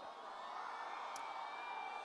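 A crowd cheering and applauding at Rashmika Mandanna's entrance to the Pushpa 2 trailer launch event, a steady dense roar of claps and cheers held at even loudness throughout.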